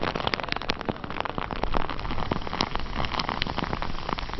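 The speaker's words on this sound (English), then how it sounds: "you can see that the rain has arrived here at Parks Racing in Bensalem, and it has come in a furious fashion" Heavy rain pours down at an outdoor racetrack, a dense continuous wash of drops with gusty texture, loud and close throughout with no talk.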